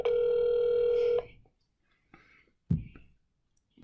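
A telephone call placed to a McDonald's restaurant in San Bernardino, CA: a steady ringback tone holds for about a second, then cuts off, followed by a few faint clicks and handset noises.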